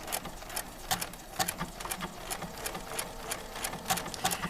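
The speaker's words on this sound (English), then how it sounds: "I'm going to put my needle down and start stitching." A sewing machine runs a blanket stitch around the edge of fused appliqué fabric. Its needle taps out a quick, regular mechanical patter in short runs, close and moderately quiet, with no one speaking.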